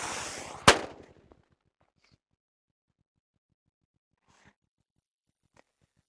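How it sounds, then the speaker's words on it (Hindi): One sharp, loud Diwali firecracker bang after a short hiss, set off using a mobile phone, followed by a few faint scattered pops and crackles fading into near silence. "दिवाली के सारे पटाखों को जला सकते हैं"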